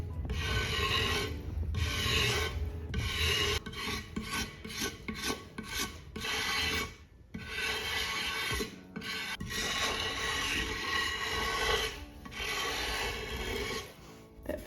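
Repeated dragging strokes of a wooden knife tool or metal rib across a damp, not fully hardened one-piece plaster mould, a close rasping scrape in bursts with short pauses between passes.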